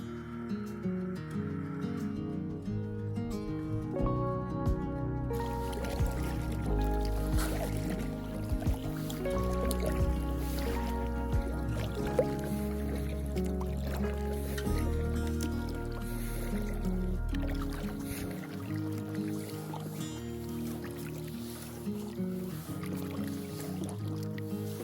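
A packraft is paddled across water in the Utah outdoors, with steady sloshing and splashing strokes and dripping water close by, continuous throughout.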